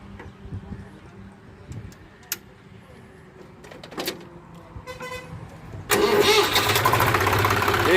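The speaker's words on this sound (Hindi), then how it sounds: "अब मैं ट्रैक्टर स्टार्ट करता हूँ" Swaraj FE 735 tractor engine, freshly rebuilt, cranks with a few clicks and knocks, then catches at about six seconds and runs on loud and steady with broad, rough engine roar.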